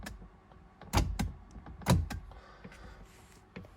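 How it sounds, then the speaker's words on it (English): Electric door lock mechanism on a 1974 Jensen Interceptor working, heard as two sharp mechanical clunks about a second apart with faint clicks around them in a quiet garage. "but also the door lock mechanism"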